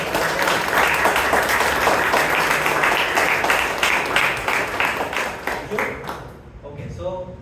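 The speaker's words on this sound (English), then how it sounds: "please give a round of applause for our general evaluator" A Toastmasters club audience in Bangalore applauds their general evaluator, a dense, steady round of clapping from a roomful of people that carries on for several seconds before thinning and fading into quieter sounds at the end.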